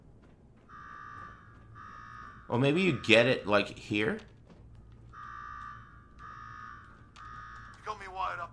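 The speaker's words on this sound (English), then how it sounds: "Now go shut off that damn alarm." An alarm in the video game Fallout 4 sounds as repeated short electronic buzzer tones in an even on-off rhythm, moderately loud, with someone talking over it in the middle and again at the end.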